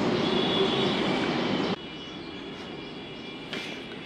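A metro train roars past close by, loud and broad at first, then drops abruptly to a steadier, quieter rumble with faint squeal-like tones and a brief swell near the end.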